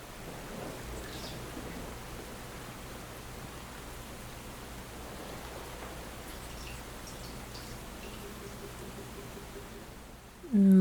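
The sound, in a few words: rain and thunder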